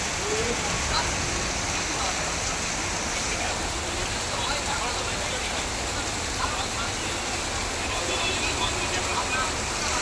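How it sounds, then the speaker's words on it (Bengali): Rain falls on a street, forming a steady, even wash of hiss that continues unbroken and at moderate loudness for the whole stretch. "আজকের দিনে একটু বৃষ্টি হলো"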